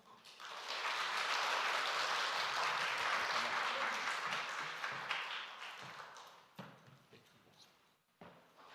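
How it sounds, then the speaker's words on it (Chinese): Congregation clapping together at an outdoor Taiwanese-language church service in a park, a dense sustained burst of applause that fades out after about six seconds into scattered claps and quiet. "我们鼓掌，荣耀神"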